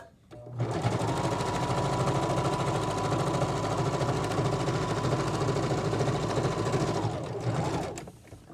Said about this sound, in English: a basting stitch is where you use a really long stitch. That's a 4 on here. So turn it to a 4 and go ahead and stitch it.